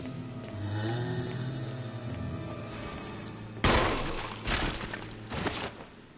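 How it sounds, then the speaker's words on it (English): A flashbang grenade goes off in the Resident Evil remake as a sudden loud burst, followed by several sharp crackling bangs and a ringing tail over the game's droning background. "Flashbang? Flashbang. That's one way to not have to worry about a crimson head."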